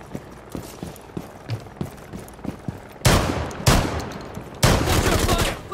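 Gunfire in the tactical shooter Rainbow Six Siege during a bomb-defusal round: a quieter patter of distant shots and footsteps gives way to two loud, close bursts of rapid automatic fire.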